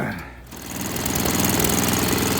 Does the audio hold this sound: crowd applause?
no